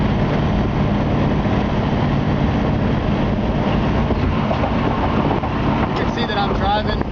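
1963 Ford Galaxie convertible cruising at 55 to 60 mph, a loud, steady rumble of engine, road and wind noise filling the cabin without letup, with a voice talking over it.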